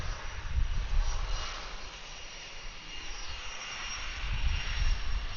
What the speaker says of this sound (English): we have an A330 landing on runway 10